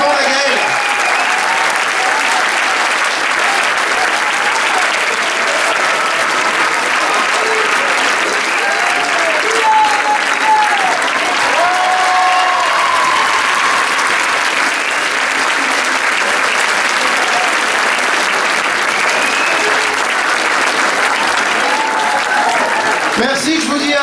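Audience applauding a choir at a concert, sustained dense clapping from a full room that carries on steadily throughout, with some voices and cheers mixed into the crowd noise.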